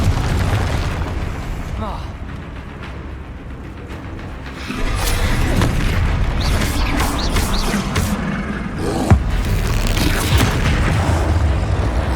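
Spell blasts from Bombarda and Confringo in the Hogwarts Legacy video game boom loudly and continuously, layered with bursts and crackles in a dense, noisy battle mix.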